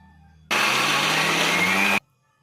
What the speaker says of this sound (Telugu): ఇప్పుడు మనం ఇవి మిక్సీ పట్టుకుందాం